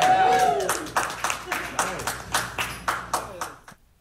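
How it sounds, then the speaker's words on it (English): A music group claps together in unison at the close of a jam session, about a dozen sharp, evenly spaced claps after a brief held tone, then fading to silence. "And then we, and I mean we, clap at the end of a performing jam session."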